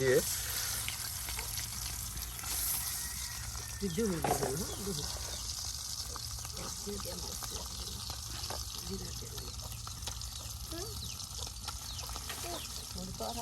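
Eggs fry in oil with cumin for a village-style Bengali egg and potato dish, a steady close sizzle and crackle with a brief scrape partway through.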